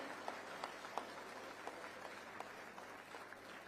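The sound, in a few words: audience applause welcoming the chief minister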